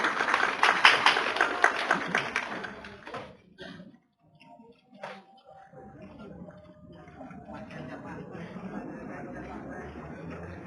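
Audience applause at a vocational high school graduation send-off: loud clapping fills the opening seconds, fades into a near-silent gap, then a softer, busier crowd murmur returns.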